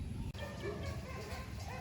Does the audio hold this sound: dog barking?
yes